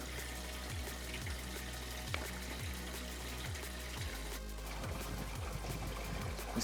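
Water runs into the plumbing tube of a camper van as the supply is switched on, a faint steady trickle under a quiet, regular low thumping pulse that shifts partway through.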